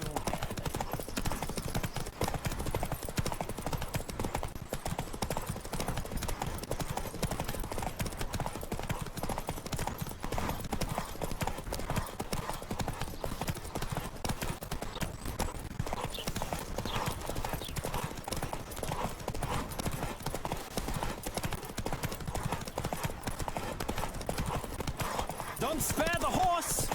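Horse hooves clip-clop at a steady gallop through a race in The Witcher 3, loud and continuous for the whole stretch, with wind rush and occasional game voices mixed in over the hoofbeats.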